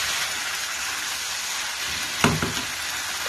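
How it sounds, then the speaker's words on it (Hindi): Chicken karahi sizzles and fries steadily in a wok, a close crackling hiss with a brief clatter of stirring near the end. "पहले हम इसको अच्छी तरह से तकरीबन 3 से 4 मिनट सिर्फ हम भूनेंगे, ताकि हमारी कढ़ाई मज़े की तैयार हो जाए।"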